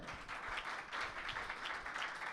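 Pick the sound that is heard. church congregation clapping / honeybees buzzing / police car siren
church congregation clapping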